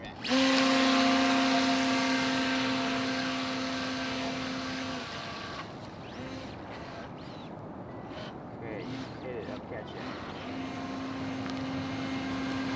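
A brushless UDI Inkfish RC jet ski motor runs at 75% power, a steady high electric whine that fades and returns, outdoors among other motor noise.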